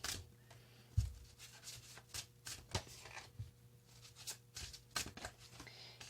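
Soft, quick riffling and tapping of tarot cards being shuffled, in repeated bursts with brief pauses, close and fairly quiet, with no talking.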